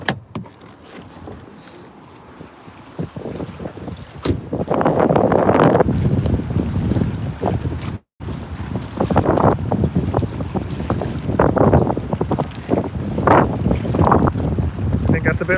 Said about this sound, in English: Get ready for some noise, because it's going to be windy.